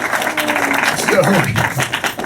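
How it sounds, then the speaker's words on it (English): Clapping from a film premiere audience at an awards ceremony, mixed under a voice that talks through it, fairly brief and uneven. "let's give her a round of applause for world premiere"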